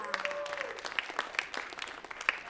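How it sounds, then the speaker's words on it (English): An audience in a high school setting claps with a dense, moderate patter of applause, a few sharp individual claps standing out near the listener. "definitely deserves a round of applause"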